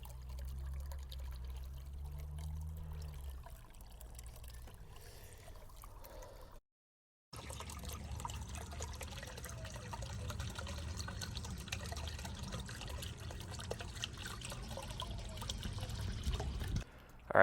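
A small solar pond fountain is lowered into a backyard pond. Soft gurgling, pouring and trickling water sounds continue at low level, with a brief silent gap partway through.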